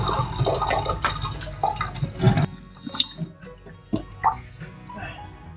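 Boiled rinse water poured off freshly washed rambutan fruit: uneven splashing and gurgling bursts with drips and a few clinks, close and moderately loud, with no one talking.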